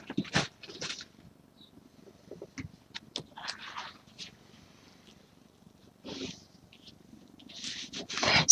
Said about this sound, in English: See, that's my cat.